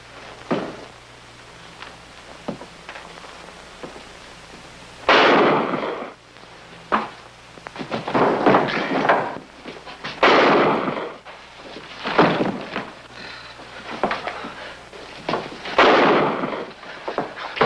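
A series of sharp, loud bangs like gunshots from a Dick Tracy radio drama, several bursts spaced irregularly with crackling tails, alone without voices.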